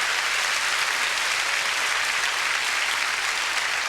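Dense, steady audience applause in a television studio, loud and continuous with no break.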